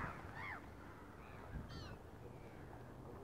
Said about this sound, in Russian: Чайки, которые ждут хлебушка.